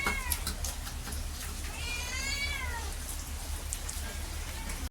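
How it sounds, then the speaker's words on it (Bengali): A cat meows a few times in a home kitchen where fish is being cut, one drawn-out wavering meow in the middle, over a low steady hum and faint background noise. "দেখো দেখো দেখো বিড়াল।"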